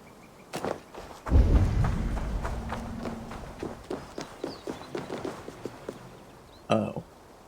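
Horse hooves in Assassin's Creed Valhalla clop in a quick run, then slow into a steady walking rhythm of distinct thuds, with a heavy thump near the end.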